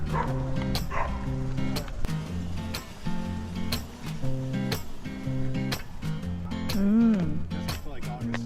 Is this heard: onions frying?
no